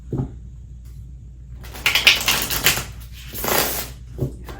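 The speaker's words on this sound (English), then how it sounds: "A clean shuffle." Tarot cards shuffled by hand in two short, crisp riffling bursts, close and fairly loud against a quiet room, with a soft tap at the start and end.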